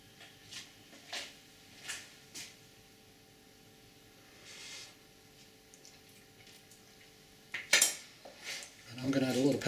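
A metal spoon clinks and scrapes against a pot of chicken stew, light taps early on, then louder rattling knocks near the end, with no talking.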